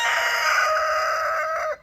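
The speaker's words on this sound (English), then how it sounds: "the chickens just love coming through and picking at it" Chickens on a farm vocalising close by in one sustained, strained call that holds steady for nearly two seconds and then cuts off, more like a drawn-out crow or squawk than soft clucking.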